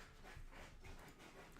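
A dog pants quietly and rapidly near the microphone during a live game session, a faint, breathy rhythm with no other clear sounds.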